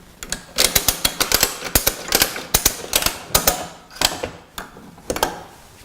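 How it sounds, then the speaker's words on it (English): A ratchet strap being tightened around a drum on a pneumatic drum rotator, sharp rapid clicks in steady repeated strokes, close and loud with no talking. "Pull the slack out again, keeping the ratchet in your right hand."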